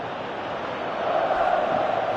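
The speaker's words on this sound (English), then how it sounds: "you can hear how the crowd are reacting to this too" A football crowd at a World Cup match gives a steady, distant stadium roar that swells slightly louder in the second half, with no clear voices on top.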